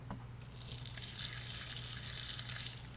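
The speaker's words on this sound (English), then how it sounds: "I'm just going to go ahead and pour in a little bit of water." Water from a bucket is poured steadily into a worm bin bedded with pine shavings, a continuous close splashing gush that starts about half a second in and runs without pause, with no talking.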